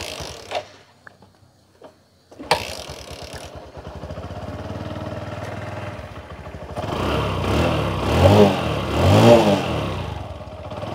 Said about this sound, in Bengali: তো আমরা কিক দিয়ে স্টার্ট দিয়ে দিই।